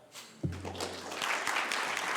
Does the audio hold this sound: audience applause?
yes